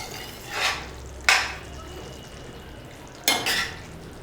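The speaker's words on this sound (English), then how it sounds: "Give it a mix and let it cook." Mutton liver in green masala simmers in a pan. A spoon scrapes through it in three separate strokes over a faint, steady cooking hiss.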